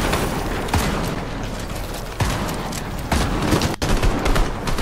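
Steady rapid gunfire from a video game scrim, with several sharp louder bursts standing out against a continuous dense crackle of shots throughout.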